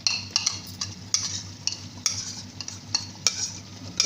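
Thick almond-cashew paste frying in a pan for white qorma, stirred with a spoon in repeated scraping strokes over a low steady sizzle, close and fairly quiet.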